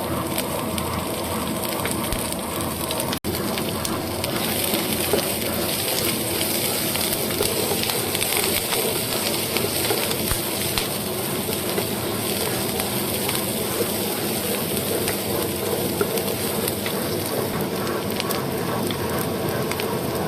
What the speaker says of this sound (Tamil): ஒரு பேன் எடுத்துச்சு, எண்ணெய் விட்டு கடுகு போடணும். கடுகு போட்டாச்சு. அடுத்து வந்து வெங்காயம், மிளகாய், கருவேப்பிலை இதை போட்டுடலாம்.